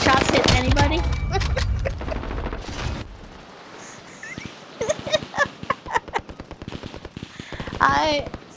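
Rapid gunfire in the video game Warzone, a loud burst early on and then a quicker run of distinct sharp shots. Talk can be heard alongside the shooting.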